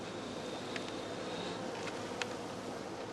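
Honeybees buzzing around straw skeps during autumn harvesting at an apiary, a faint steady hum with a few brief closer insect passes, no voices.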